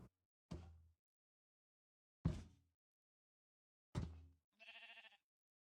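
Minecraft sheep penned on a single grass block surrounded by glass blocks, with three sharp knock-like thuds spaced apart and then a short wavering bleat at the end, all faint against silence.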